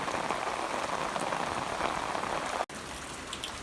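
Heavy rain pours steadily during a storm over an open cattle pasture, a dense continuous hiss of drops drumming on surfaces close by, with a brief dropout near the end and no talk.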